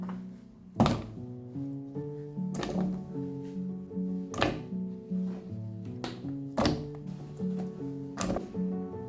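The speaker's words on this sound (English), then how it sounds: "Place the potatoes into the pot." Potatoes are dropped one after another into a cooking pot, giving five sharp thunks spaced about two seconds apart over soft background music.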